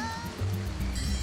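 In The Emperor's New Groove video game, a waterfall rushes as a dense, continuous wash of churning water with low surging layers, loud and steady for the whole moment.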